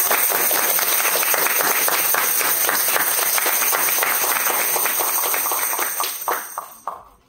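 An audience at a dramatic reading of a Greek tragedy applauds in a dense, sustained burst of many hands that thins to a few last claps and fades out.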